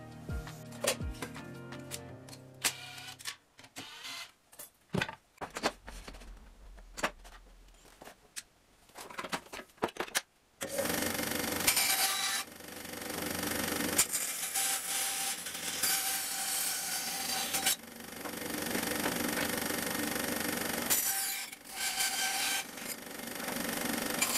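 Wood is sawn by hand for French cleat supports in a workshop, starting with scattered knocks and short strokes, then giving way to long sustained rasping saw passes with brief pauses between them.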